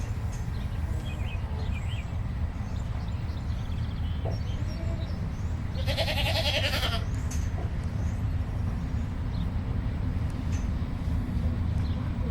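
A goat bleats once in the distance outdoors on a small farm, brief and faint over steady low ambient rumble and scattered bird chirps.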